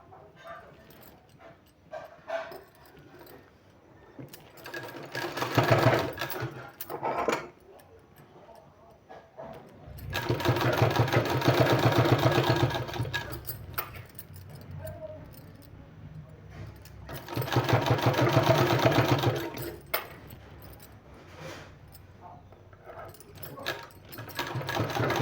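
Sewing machine stitching a 2-inch bias strip onto the back of a sleeve, running in two long bursts of steady whirring, with softer handling sounds and brief lower hum in between.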